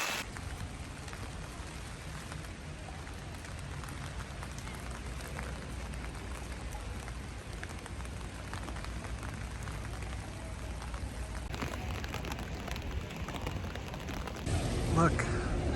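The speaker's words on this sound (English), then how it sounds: "it's pouring right now and I'm not wet" Heavy rain pours steadily in London as a dense, even hiss that continues throughout, with a voice talking over it and a slightly louder burst of noise near the end.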